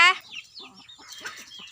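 A hen clucks close by in a short series of soft, uneven calls, with other chickens faintly around it near a pile of rice.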